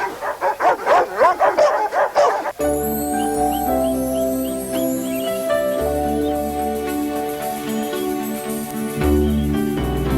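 Dogs, mostly Rottweilers, bark in a rapid burst of loud, close barks lasting a couple of seconds, then give way to music that plays for the rest.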